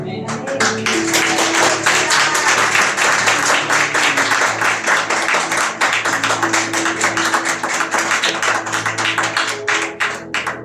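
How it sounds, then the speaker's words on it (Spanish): A church congregation breaks into loud, sustained applause, dense clapping that continues steadily throughout with a droning tone underneath. "Denle un fuerte aplauso al Señor."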